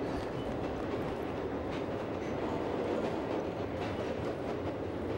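A moving train in the video game Gungrave gives a steady, loud rumble with faint rhythmic clatter of wheels on rails, continuous throughout.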